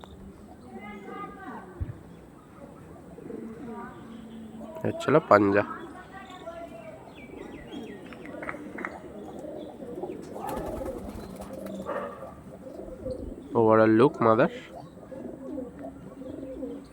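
Pigeons coo softly with a few short chirps while someone talks through most of the stretch, with two louder bursts of flapping or handling noise.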